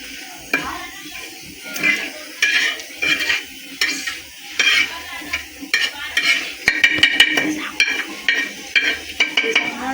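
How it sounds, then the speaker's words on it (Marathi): Spice masala dry-roasting in a pan for a rural varan-bafla dish, stirred with a ladle in steady repeated scrapes and clinks against the metal, with a light sizzle underneath, close and fairly loud, no talking. "मसाला भाजलेला आहे"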